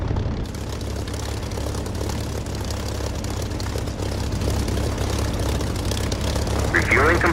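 An aircraft engine in the DCS flight simulator game roars steadily and loudly at takeoff with a constant low drone throughout, while a brief higher whine creeps in near the end.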